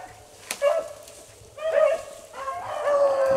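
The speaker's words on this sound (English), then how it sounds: "Dogs are trailing another different rabbit here," Hunting dogs bark and yip in short bursts while trailing a rabbit during a Virginia rabbit hunt, heard at a moderate distance in open country with a steady low background.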